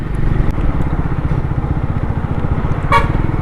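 A Triumph Scrambler 400 X motorcycle engine roars loudly and steadily up close as it accelerates, with a brief horn toot near the end.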